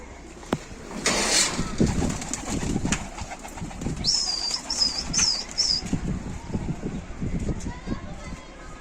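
A flock of pigeons takes off with bursts of flapping wings amid engine noise, and someone speaks throughout.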